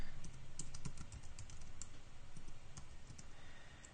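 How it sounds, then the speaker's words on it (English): Rapid, irregular clicks of typing on a computer keyboard, close and fairly quiet over a low background hum, with no talking. "I cannot talk when I'm typing"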